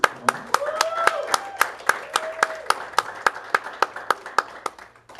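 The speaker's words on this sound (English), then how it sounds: "I want to give her a round of applause" A small pageant audience claps for the organization's executive director, sharp, evenly paced hand claps ringing out one after another, with a speaking voice and a brief musical tone underneath early on.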